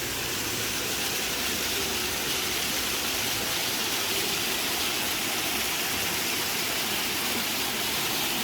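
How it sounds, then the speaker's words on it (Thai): Steady, loud roar of a waterfall, a dense continuous rush of falling water filling the whole clip with no voices. "น้ำตก"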